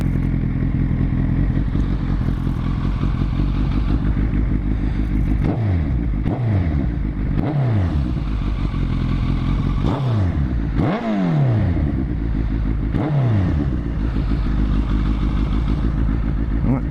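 Suzuki Hayabusa K7 motorcycle with SB Engineering carbon stubby exhausts idling close by, a steady loud low rumble with a few brief blips of revving throughout.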